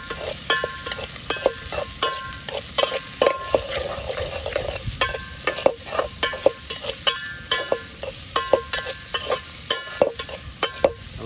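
Onions stirring and frying in a pan during roadside cooking: a steady sizzle runs under repeated sharp scraping and clacking strokes of a spoon, close and fairly loud, with no talking.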